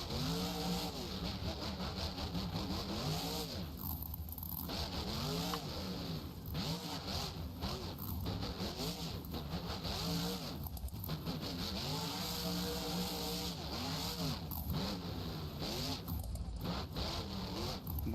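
Nate Martinez's El Toro Loco monster truck in an indoor arena show in Dayton, Ohio, its engine revving loudly and continuously, the pitch repeatedly surging and dropping.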